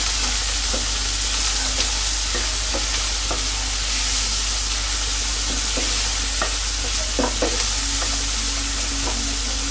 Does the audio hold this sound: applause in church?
no